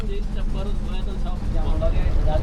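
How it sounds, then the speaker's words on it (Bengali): A boat engine drones steadily as it runs on the water at Tanguar Haor, a continuous low rumble filling the background beneath talking voices. "বোটের ইঞ্জিনের শব্দ জানান দিল আমাদের জলযাত্রার সূচনা হয়েছে অনেক আগেই।"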